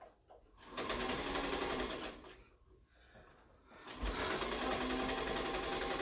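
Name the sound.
sewing machine stitching fabric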